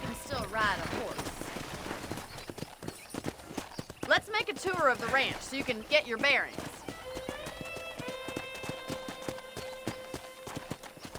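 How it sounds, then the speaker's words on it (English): Horse hooves clip-clopping in Red Dead Redemption, a steady, moderately close rhythm of hoofbeats running under a voice at first, with music tones later. "let's see if you can still ride a horse."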